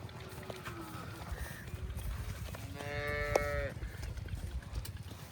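A Cholistani or Friesian cow gives a single drawn-out moo, fairly faint and distant over breezy outdoor background noise, with no one speaking.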